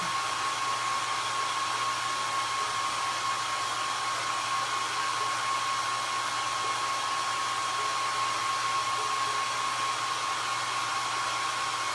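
A hair dryer blows steadily and loudly on a freshly painted flower pot, a constant unbroken whoosh with a faint high whine lasting the whole time, with no talking.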